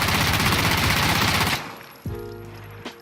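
MP5 submachine gun with a 40-round magazine firing in the game Insurgency Sandstorm, a dense rapid automatic burst that stops abruptly, followed by a few mechanical clacks.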